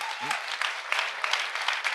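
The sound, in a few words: congregation applause in church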